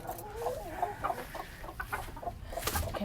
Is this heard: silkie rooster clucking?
yes